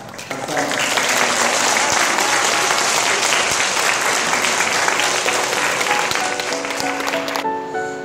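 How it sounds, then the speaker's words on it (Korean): Applause from children and parents at an elementary school orchestra summer camp, full, even clapping rising quickly and holding steady before fading out, with a faint sustained instrument tone near the end. "다 같이 서로 간에 경례의 박수로 나누시도록 하겠습니다"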